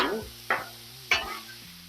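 80-20 ground beef hisses on a griddle while a spatula chops and flips it, giving three sharp metallic scrapes over a low steady sizzle.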